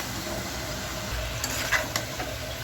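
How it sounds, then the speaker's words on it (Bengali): Chopped bottle gourd being stirred into fried masala in a pan for a gourd and shrimp curry, a steady sizzle and hiss with a few soft scraping clinks of the spoon, close and without talk. "ভালো করে নেড়ে চেড়ে মশলার সাথে সব লাউগুলো মিশিয়ে নিচ্ছি।"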